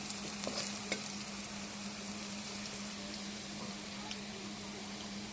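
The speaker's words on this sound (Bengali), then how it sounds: "পেঁয়াজটা লাল লাল করে ভেজে নেব। আস্তে আস্তে নাড়তে থাকবো যেন ভাজিটা সুন্দর হয়" Onions frying in a pan for a meat and potato curry, a steady soft sizzle with occasional stirring scrapes early on, low and continuous with no voice.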